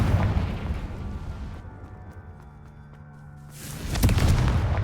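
A Confringo fire spell explodes in Hogwarts Legacy, a booming burst at the start that fades into a quiet lull before another loud blast erupts near the end.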